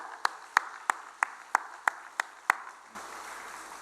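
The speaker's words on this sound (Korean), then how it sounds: "우리 옆에 이 존귀한 자들 향해서 마음을 다해 한번 뜨겁게 다 같이 박수를 보내드리겠습니다" Church congregation clapping together during a Sunday worship service, about eight sharp, evenly spaced claps in a steady rhythm before the sound breaks into a brief, softer wash of noise.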